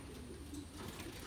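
Sion racing pigeons coo in a loft, soft low murmuring calls under a steady hiss of background noise, faint and continuous.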